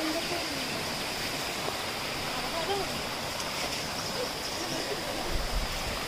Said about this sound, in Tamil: ஒரு குட்டி அருவி.